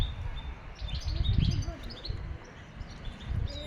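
Tunisian goldfinch nestlings chirp in a nest with quick, high, scattered tweets over a low background rumble and handling noise, no speech.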